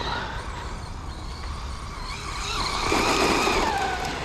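An FTX Crossbow 1/10 brushless RC truggy on its first run, a low-kV motor whining with rising pitch and tyres scrabbling over the ground, growing louder in the second half with a steady broadband hiss throughout.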